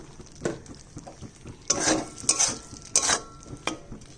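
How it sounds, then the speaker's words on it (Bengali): Mustard oil goes into a pan of taro and poppy seed curry as it is stirred, giving scraping spoon strokes and soft sizzling with a few sharper metallic clinks, close and fairly quiet, no talking. "আর লাস্ট ফিনিশিংয়ে দিয়ে দিচ্ছি একটু সর্ষার তেল"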